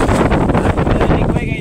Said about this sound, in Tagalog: Hangin man, mahangin.